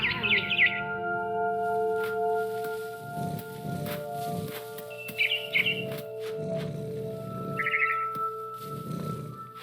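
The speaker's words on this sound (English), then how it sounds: "Then I heard chirping outside my window. It was a barn swallow going back to her nest." Barn swallow chirps in the video game What Remains of Edith Finch, three short bright bursts spaced apart over a steady low ambient game drone and soft rhythmic thumps.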